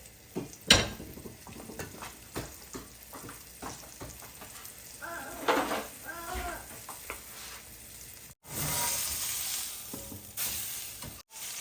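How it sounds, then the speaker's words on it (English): A beef roast sears in a hot pan, giving a continuous crackling sizzle with scattered spits and pops, a scrape or two partway through, and a brief louder burst of hiss near the end. "I'm just going to sear each side of the roast"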